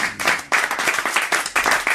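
Studio audience on a French television show applauding steadily for about two seconds, dense close clapping with small swells and no voices.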